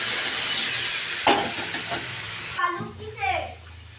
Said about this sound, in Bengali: এখানে পরিমাণ মতো জল দিয়ে দিলাম